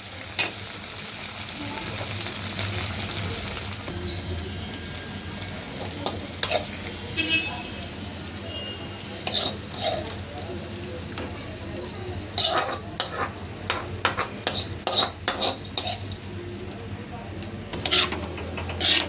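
Prawns and tomato fry in a pan as they are stirred, a soft continuous sizzle broken by scraping and clinking of a utensil against the pan, close and moderately quiet.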